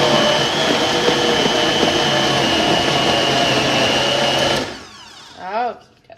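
A blender whirls homemade pesto made with olive oil and cracked pepper, giving a loud steady motor roar for about four and a half seconds. It then cuts off, leaving a brief quiet tail.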